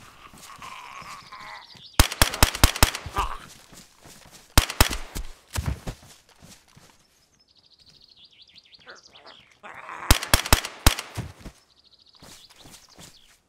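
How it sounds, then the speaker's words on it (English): Gunfire in the survival game DayZ, two tight bursts of sharp, loud rapid shots, then a third burst later, with whistling ambient tones and bird-like calls in the quieter gaps. "I just shot, killed two of his zombies"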